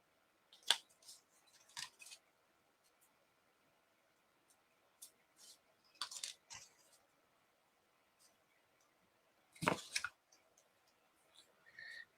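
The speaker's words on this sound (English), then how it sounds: "So let's die cut those flowers." Paper flowers for a collage card run through a die cutter, giving quiet, intermittent clicks and crisp crunching bursts separated by near-silent pauses.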